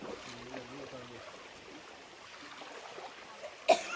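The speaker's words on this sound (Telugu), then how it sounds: "ఇంకొక చిన్న వాగు వచ్చింది." A small stream flows over rocks along the trek to Kongala Waterfalls, making a steady, soft rushing hiss. A brief murmur of voices opens the sound and a sharp knock comes near the end.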